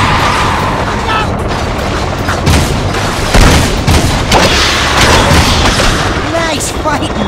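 Loud, dense gunfire and booming blasts fill a Jak II video game firefight against enemies, continuous and heavy throughout, with a voice talking over the shooting.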